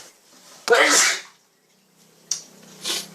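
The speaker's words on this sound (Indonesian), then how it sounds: "karena musimnya subuh ini kadang mudah bersin ya" A person sneezes indoors at home in the early morning: one sharp, loud close sneeze, then after a pause a second, softer sneeze sequence with a short breathy burst, over a low steady hum.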